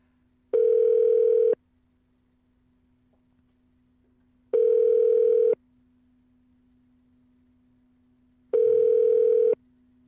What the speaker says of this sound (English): It's very strange they don't answer the phone.